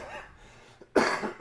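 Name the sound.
cough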